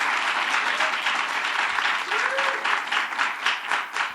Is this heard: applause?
yes